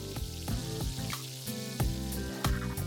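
An egg sizzles and fries in a pan for an egg sandwich, a steady crackling hiss with occasional louder pops and spatters, close and continuous with no talking.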